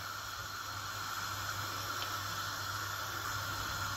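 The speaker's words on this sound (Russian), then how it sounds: "Добавляю рыбу в сковороду." Fish fillet frying in a pan gives a steady, even sizzling hiss that runs unbroken throughout, with no voices.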